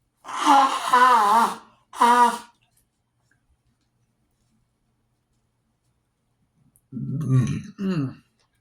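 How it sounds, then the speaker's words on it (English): A burp after a tonkotsu ramen dinner: a couple of voiced, throaty sounds come first, then after a pause a low, rumbling belch rolls out in two close bursts, near and fairly loud. "The burp after you eat,"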